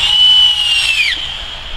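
A power drill spins up loud and close as it drives a deck screw into treated pallet wood, its high whine steady before dropping in pitch as the screw seats, with no talk.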